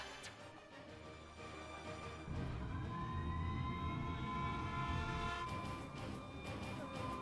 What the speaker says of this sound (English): this siren, it sounds different